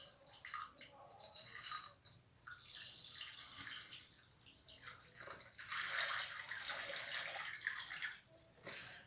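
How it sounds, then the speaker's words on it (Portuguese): Coconut water poured from the carton into a vodka drink, a continuous close splashing and trickling stream that swells and fades over several seconds. "E agora vamos completar aí, ó, com a nossa água de coco"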